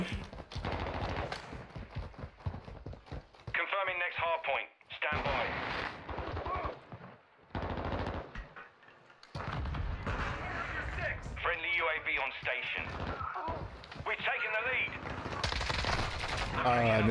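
Rapid bursts of automatic gunfire and single shots in Call of Duty: Modern Warfare II, loud and close, broken by short pauses, with voices talking over parts of the action.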